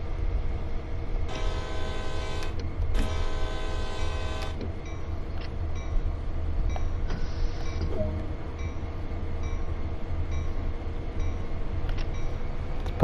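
A freight train in Train Sim World 2 on the Sand Patch Grade eases into a slow start, a steady low diesel rumble underneath while the horn sounds in two long blasts, followed by shorter tones and mechanical clanks.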